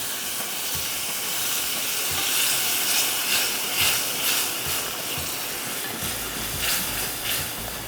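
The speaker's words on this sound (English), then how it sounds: "that's when we're going to deglaze with our homemade fish stock, or house-made fish stock" A pot of scallop sauce deglazed with homemade fish stock gives off a steady, loud steaming hiss that fills the whole stretch, with a slight shift in texture near the end and no voices.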